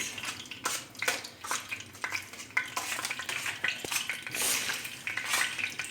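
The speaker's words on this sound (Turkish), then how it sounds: "Bir kaşıkla karıştırıyorum." A spoon stirs manti in a pot, with yogurt and melting fat mixed in, giving repeated close scraping and clinking strokes over a soft sizzle, without talk.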